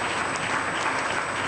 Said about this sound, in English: May we please give them a round of applause for such incredible achievements.